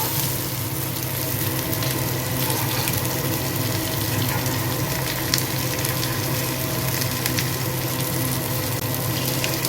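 Bombil (Bombay duck) fish fry on a hot tawa, giving a steady, dense sizzle that runs unbroken and fairly loud close up, with faint crackles scattered through it and no talking.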